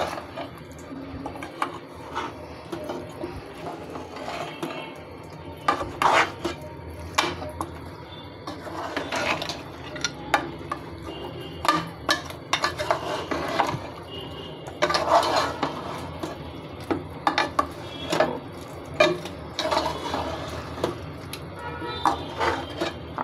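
Meat being mixed with ground coriander, cumin and other spices in a pot, with repeated clattering and scraping of a utensil against metal in irregular bursts, fairly close.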